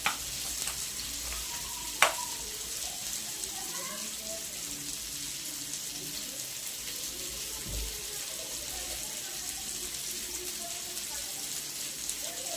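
Fish frying in a pan on a low gas flame, a soft steady sizzle running throughout with faint stirring and clinks, one sharp knock near the start and a low thud midway, no talking.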